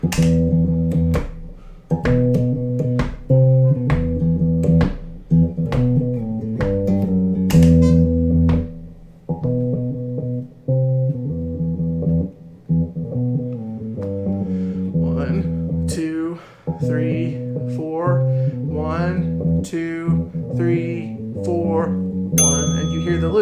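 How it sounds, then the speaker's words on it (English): A looped guitar bass line repeats over and over in a steady loop, low and sustained, with sharper higher notes and a few bright tones appearing toward the end. "So now we've got a bass line."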